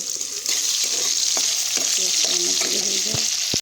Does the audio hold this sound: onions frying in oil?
yes